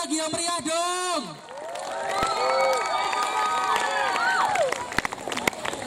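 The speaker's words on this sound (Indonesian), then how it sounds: "Beri tepuk tangan lagi yang meriah dong." A crowd at a school scout camp campfire arts show cheers and claps loudly after a class performance, shouting voices and whoops rising over steady applause, with a voice speaking at the start.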